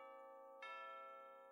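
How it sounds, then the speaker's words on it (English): Bells ring out in a sudden bright, sustained peal with a long ringing tail, standing alone with no talk over it. "hear the sound of"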